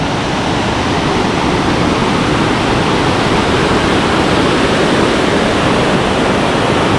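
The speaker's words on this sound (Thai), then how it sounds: "น้ำตกชั้นที่สาม" A steady, loud roar of falling water from the third tier of Krathing Waterfall in Chanthaburi, Thailand fills the whole clip, dense and constant with no breaks and no voices.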